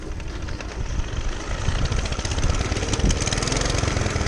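A rebuilt 1947 Whizzer motorbike engine starts and settles into a steady, close, loud chugging idle with a rapid, even putt-putt rhythm and no misses or pops.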